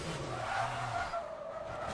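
Tyres skid and squeal from locked front brakes on a GTE race car in a racing video game, a sustained loud screech layered over engine drone.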